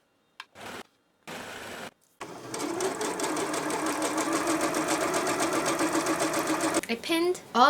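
A sewing machine stitches a ruffled silky top, starting with a few short bursts and then settling into a steady, close, rhythmic whir that runs for several seconds; brief sounds of handling come near the end.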